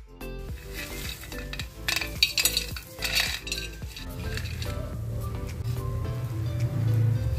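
Rice and lentils frying with turmeric and salt for khichuri, a steady sizzle building under clinks and scrapes of a metal spoon against the pan, growing louder toward the end.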